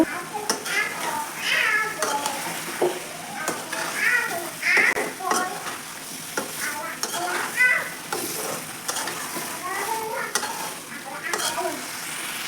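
Vegetables from a home garden stirred in a pot during Bengali home cooking, with scraping and soft sizzling in short bursts, plus background chatter and a voice.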